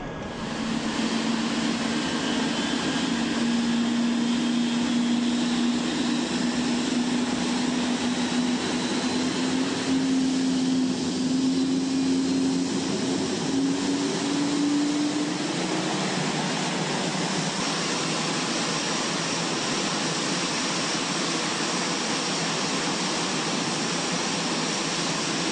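Boeing 787 jet engines spool up for takeoff in a loud, continuous roar with a rising whine that climbs steadily in pitch over about fifteen seconds, then broadens into a sustained heavy rush of thrust.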